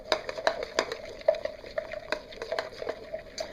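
Red colorant blended with oil for cold-process soap is stirred in a small container, producing quick scraping clicks and light taps in an irregular rhythm, close and fairly quiet, with no talking.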